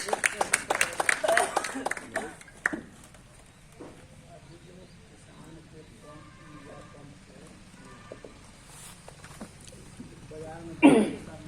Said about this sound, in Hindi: उनको जोरदार तालियों से आप स्वागत करेंगे